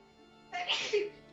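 A single sharp sneeze bursts out close to the microphone during a home gaming session, abrupt and breathy against quiet room background.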